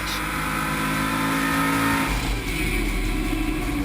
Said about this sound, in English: in the company's dyno center, Kurt Hooker is testing a competition prototype for the LS2 engine